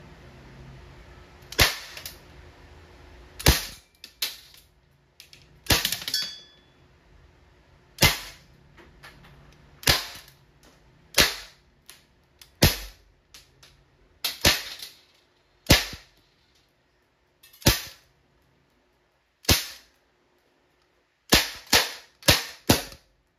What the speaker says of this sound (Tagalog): testing Colt Defender non-blowback